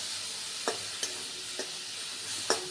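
Masala gravy browning in a pan with a steady low frying hiss, broken by four sharp scrapes of a spoon stirring against the metal, spaced unevenly and heard close without any talk.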